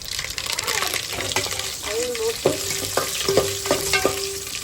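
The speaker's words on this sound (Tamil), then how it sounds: "எண்ணெய் ஊற்றி கொஞ்சம் கடுகு போட்டு அதெல்லாம் பிச்சு வச்சுருக்க வத்தல் கருவேப்பிலை" Mustard seeds, dried red chillies and curry leaves crackle and sizzle in hot oil, with spoon scrapes and clinks rising close by and a voice talking over the frying.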